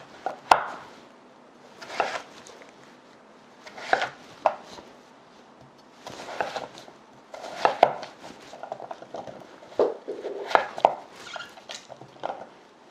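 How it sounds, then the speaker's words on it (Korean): A knife chops summer radish on a cutting board for kimchi, bursts of crisp close taps arriving in uneven clusters with short pauses between them and no talking. "그래서 그냥 조금 가을무보다는 작게 썰 겁니다"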